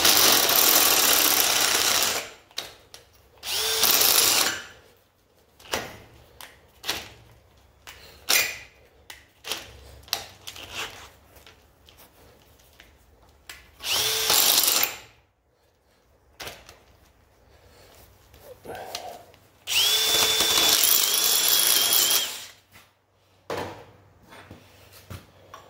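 Several bursts of a power drill whirring, each a few seconds long, separated by quiet pauses and small clicks and handling noises, while building a simple fire grill.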